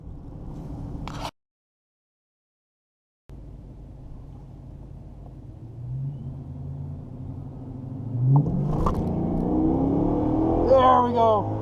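A supercharged all-wheel-drive Dodge Charger at the Bandimere drag strip, its engine rumbling low after a brief dropout, then swelling into a rising, louder revving roar as it accelerates, with people talking over it.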